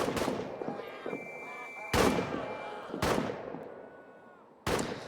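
Gunfire in the trench-warfare video game All Quiet in the Trenches: three or four sharp, loud rifle or artillery shots spaced about a second apart, each with a ringing decay, with no talk.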